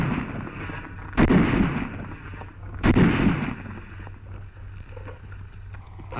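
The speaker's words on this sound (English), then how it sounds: "A Tommy gun." A Thompson submachine gun fires in an old World War II army training film: two loud, sharp bursts about a second and a half apart, each tailing off, over a constant hiss of film noise.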